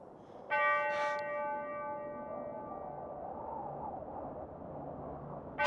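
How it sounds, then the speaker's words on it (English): A single church-style bell strikes once with a clear, ringing tone that hums and slowly fades over several seconds, with no voices, and a second strike begins at the very end. "The bell invites me."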